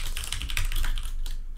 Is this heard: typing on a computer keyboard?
yes